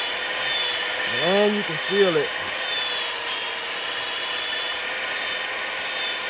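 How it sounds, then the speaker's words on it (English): A cordless drill spins a valve against its seat on an LQ4 cylinder head during valve lapping, giving a brief whirring, grinding burst in and out. Someone talks over steady shop noise. "When you lapping it, you can kind of hear it."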